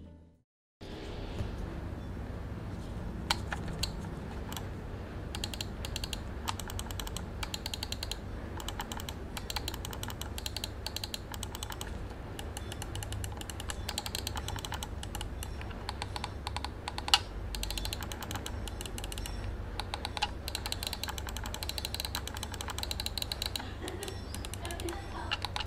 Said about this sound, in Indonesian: ini adalah suara dari klikan si mouse Digital